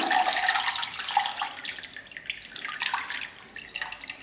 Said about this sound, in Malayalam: കുറച്ച് വെള്ളം നല്ല തെളിഞ്ഞ് വന്നിട്ടുണ്ട്. അപ്പോൾ ഇതും കൂടെ അങ്ങ് ഊറ്റി കൊടുക്കുക.